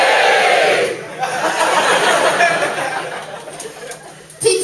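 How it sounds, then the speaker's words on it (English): Comedy club audience in Glasgow cheering and laughing, a loud burst of mixed crowd noise that fades into scattered chatter and chuckles, then a sharp spike of sound near the end. "Give us a cheer if you're under 40."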